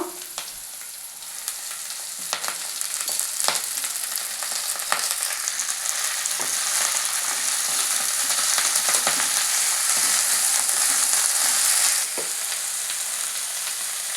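Curry leaves and ponnaganti leaves fry in hot oil in a pan, a loud continuous sizzle with scattered crackles and pops, steady until it eases near the end.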